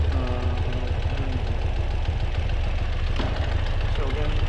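A 2018 Ural Gear Up sidecar motorcycle engine starts and settles into a steady, loud low-pitched idle, its chugging pulse continuous throughout with a voice talking over it.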